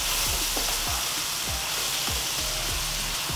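Brinjal pieces being stirred into a sizzling spiced mixture in a frying pan, with a loud continuous frying hiss and regular scraping spoon strokes close up, and no talk.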